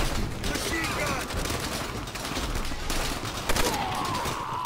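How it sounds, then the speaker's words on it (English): Sustained machine gun fire in Call of Duty: World at War at Shuri Castle, a dense, continuous rattle of bursts across a busy battlefield mix, with someone shouting over it. "Machine gun!"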